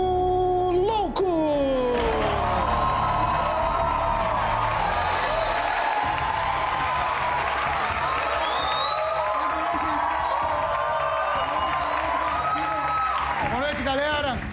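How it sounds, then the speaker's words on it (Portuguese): A studio audience at a Brazilian late-night talk show applauds, cheers and whoops for a comedian's entrance, a steady loud wash of clapping and shouts lasting throughout while a host's voice and music rise over it. "Salva de palmas pro gato"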